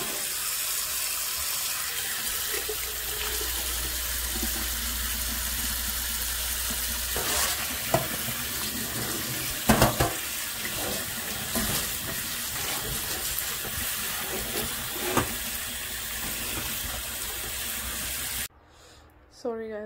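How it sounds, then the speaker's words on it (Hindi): Fresh okra is washed under a running kitchen tap. A steady rush of water runs for most of the clip, with occasional clunks and splashes of handling, and it cuts off near the end. "तो ये भिंडियाँ लेके आए थे हस्बैंड लास्ट वीक, तो ये मैं अभी वॉश करती हूँ उनको पहले."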